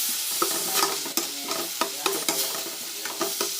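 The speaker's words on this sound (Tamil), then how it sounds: "தக்காளி நல்லா வதங்கட்டும்." Tomatoes and garlic sizzle steadily in a hot pan while a utensil stirs and scrapes repeatedly, close up.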